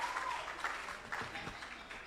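Audience at a launch event for a skills and jobs program clapping and cheering in a burst of applause, moderately close, with voices mixed in.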